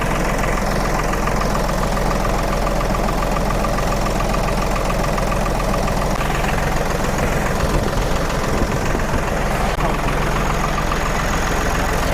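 A tractor engine idles steadily throughout, a constant low diesel rumble with a slight knocking rhythm, close and loud, with occasional faint voices in the background.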